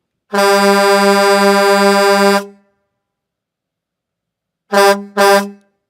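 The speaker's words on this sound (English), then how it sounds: "Don't forget to honk the horn." A loud vehicle horn blares in one long sustained honk, then after a pause gives two quick short honks, close by with no talking.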